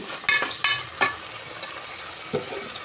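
Onion and tomato fry with whole spices in a pan for mint rice, giving a soft steady sizzle broken by a few sharp stirring clacks, fairly close and without any voice.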